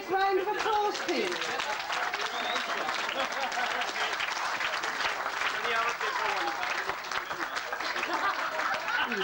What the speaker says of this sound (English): Can you give them all a big round of applause